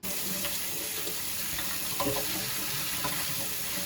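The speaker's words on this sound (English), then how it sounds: "I'm gonna rinse these under cold water, and then we're gonna cook them." Cold tap water runs steadily over lentils being rinsed in a kitchen sink, a continuous close hiss of flowing water with slight splashing changes throughout.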